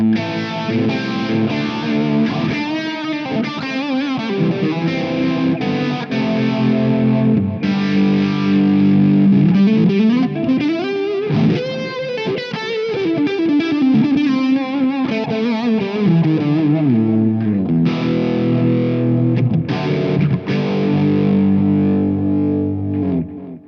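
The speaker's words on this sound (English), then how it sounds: "Let's take phase 90." Distorted electric guitar playing chords and riffs through a Phase 90 effect on a NUX MG-400 processor, a slow, sweeping phaser swirl moving through the tone, loud and continuous.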